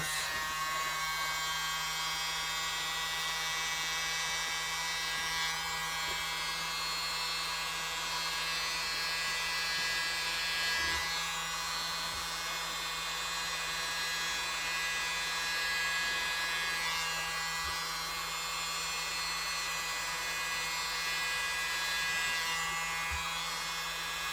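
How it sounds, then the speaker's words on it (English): A small mini blower hums continuously and evenly at close range while blowing across resin to create a bloom effect, with no pauses. "We're going to stick with the little mini blower and see how it goes."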